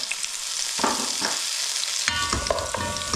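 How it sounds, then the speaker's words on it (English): Onions and carrots fry in a heated pan for a lamb tagine: a close, continuous sizzle broken by a few stirring scrapes, with no talk. "Just going to cook these onions and carrots off."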